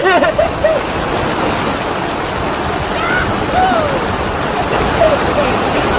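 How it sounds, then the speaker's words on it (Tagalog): Heavy rain pours in a steady, broadband roar throughout, with excited voices calling out over it near the start and scattered throughout. "Ang lakas naman ng ulan!"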